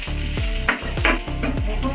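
Cashews frying in a pan, producing a close, steady sizzle with rhythmic stirring sweeps over a short stretch, no voices.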